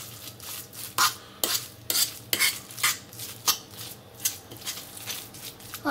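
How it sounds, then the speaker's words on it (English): A spoon mixes smoked mackerel spread with beets in a bowl, making a steady series of sharp scraping clinks against the dish, close and fairly loud, with no talking. "we're gonna mix everything together."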